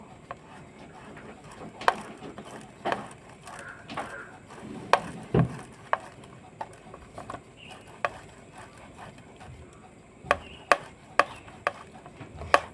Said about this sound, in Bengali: এবার আমি আলু সিদ্ধটাকে এই গ্রেটারের সাহায্যে গ্রেট করে নেব